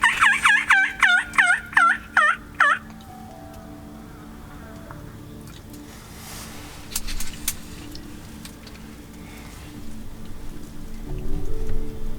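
A turkey call gives a quick run of about seven rhythmic clucks and yelps from a hunting blind by a field in Manitoba, then quiet outdoor ambience with faint rustling and a soft patter.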